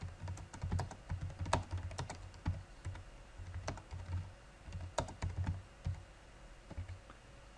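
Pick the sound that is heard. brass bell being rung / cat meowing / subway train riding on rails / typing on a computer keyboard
typing on a computer keyboard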